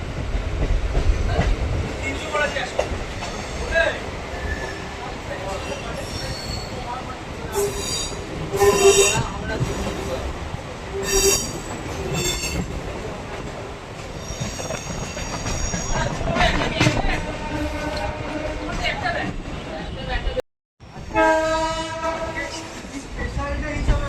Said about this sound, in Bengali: সেই সাথে আমাদের ট্রেন প্রবেশ করছে কলকাতা স্টেশনে।